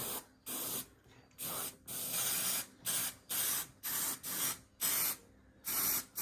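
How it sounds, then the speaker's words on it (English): Repeated sharp hissing bursts from an adhesive spray can used on car seat upholstery, about a dozen short sprays in a steady rhythm with brief pauses between them, close and loud. "Spray this in here."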